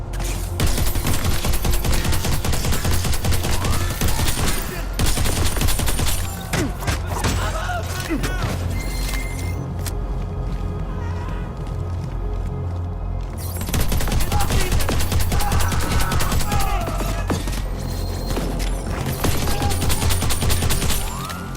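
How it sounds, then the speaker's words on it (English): The Vorslag Bolt Thrower in Crackdown 3 fires molten lead slugs in long, loud, rapid volleys of heavy thumping blasts, with a pause of several seconds in the middle before the barrage resumes at full intensity. "The Vorslag Bolt Thrower. Industrial scale slugs of molten lead."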